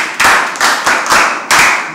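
Audience clapping at a kids' camp gathering: four loud, distinct bursts of hand claps in quick succession, close and clear with no talk.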